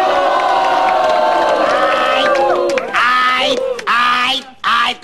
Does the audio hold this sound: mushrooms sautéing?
no